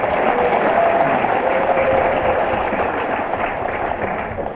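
An audience claps steadily at a Maybrat regency government audience in Papua, a dense, even wash of applause that holds for several seconds and eases slightly at the end, with no talking over it.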